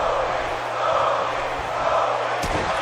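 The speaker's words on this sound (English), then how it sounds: "He has the crowd behind him now." A large arena crowd cheers at a steady roar during a wrestling match in the WWE 2K17 video game, with a thud or slam near the end. No one speaks.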